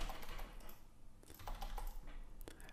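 Rapid, uneven keystrokes on a computer keyboard, close and fairly quiet, with clustered clicks and a few louder taps while filling in a web form, no voices.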